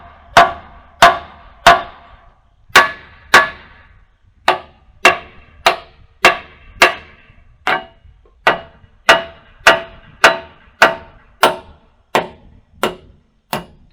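A hammer pounds bolts out of a motor grader moldboard extension, around twenty sharp metallic clangs with ringing tails in a fairly regular rhythm and a few brief pauses, loud and close, with no talking.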